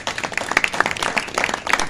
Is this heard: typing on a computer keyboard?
no